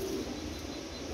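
Pigeons for sale at a bird market in Jhelum give a brief, soft, low cooing, a short throaty murmur heard close by with no talk.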